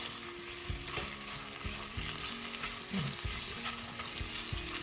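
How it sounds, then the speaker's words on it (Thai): Panang curry paste stir-fries in a pan with a constant loud sizzle, broken by repeated rhythmic scrapes and knocks of a spatula stirring, with no voices. "ที่พะแนงลงแล้วก็คั่วเลย"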